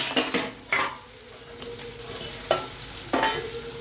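Onion sizzles in a pan as a spoon or spatula stirs it, giving several scraping strokes over a soft, steady frying hiss, close up with no talking.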